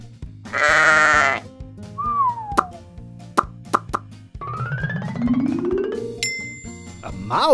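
Near the start, a cartoon sheep gives a loud, buzzing bleat lasting about a second. Plops, whistles and a cheerful children's melody follow it.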